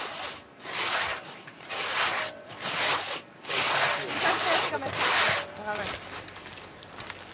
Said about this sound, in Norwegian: Hvor skal vi sette sagen? Jo, setter den bare inn her.